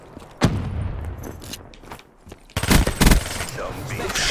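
Gunfire in the multiplayer mode of the video game Call of Duty: Black Ops 3, with a few sharp shots early on, then a louder burst of rapid bangs in the second half.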